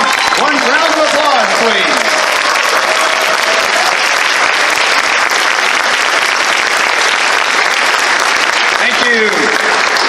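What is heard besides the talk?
audience applause at convention closing ceremony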